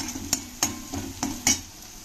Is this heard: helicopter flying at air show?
no